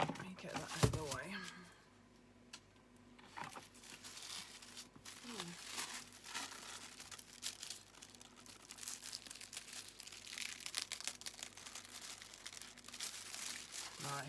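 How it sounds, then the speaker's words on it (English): Thick tissue paper crinkles and rustles while a Scribble and Dot journal is unboxed, bursts of close crackling with quieter pauses, under occasional talking. "Lovely tissue paper."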